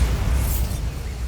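A Bombarda blast spell going off in Hogwarts Legacy, a dense, low, rumbling burst that holds steady for about a second with a brief bright crackle, then tails off slightly, no talking over it.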